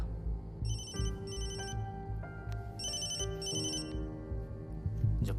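A phone ringtone plays in two pairs of quick chiming bursts over soft background music.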